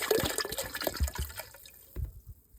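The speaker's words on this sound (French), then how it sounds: "On va le mettre dans l'eau." Vinegar poured into water, with uneven splashing and gurgling that comes in bursts before tapering into a few drips, close and fairly quiet.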